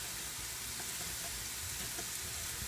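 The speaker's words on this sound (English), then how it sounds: "This ground beef is cooked enough right now to throw those onions in." Ground beef frying with onions in a hot pan, a dense, steady sizzle filling the whole stretch, close and constant, with faint stirring taps underneath.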